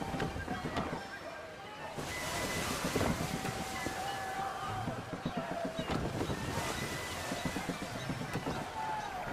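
Ocean waves wash and roll while wind gusts against a sailing ship in the Assassin's Creed 3 video game, a constant loud rushing texture with surging swells throughout.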